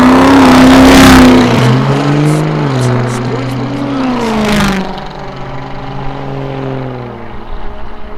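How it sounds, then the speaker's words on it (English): Diesel drag racing trucks launch down an eighth-mile strip at the NHRDA Big Sky Truck Fest, engines roaring loudly and rising in pitch before fading into the distance, with a commentator's voice over the noise. "This is round number 4 as Baker and Dahl get ready to go down track in the Gomer"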